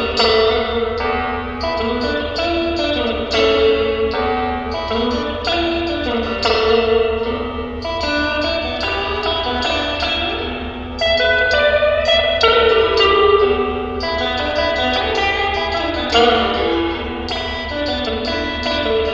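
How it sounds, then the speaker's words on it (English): A Fender Stratocaster electric guitar plays loose, wandering notes and chords through a Fender Pawn Shop Vaporizer amp with reverb at maximum, each one ringing out and blending into a continuous wash. "let's sample the reverb using a Stratocaster electric guitar"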